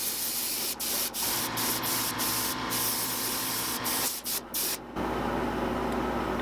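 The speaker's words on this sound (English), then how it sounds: "We're gonna try to get this smooth without removing the details, the carvings, with an acrylic primer." Acrylic primer sprayed from a can onto a carved, oversized bluegill fish model, a steady hiss in repeated bursts broken by short pauses, close and fairly loud, with no voices.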